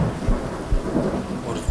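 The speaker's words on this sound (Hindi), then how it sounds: "अचानक जोर से बारिश शुरू हो गई" Heavy rain pours down on a highway at night, beside a car with its bonnet open, with low rumbling thunder rolling underneath the steady downpour throughout, loud and close.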